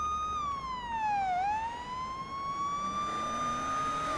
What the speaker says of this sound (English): I don't know if we need to have the sirens on for this.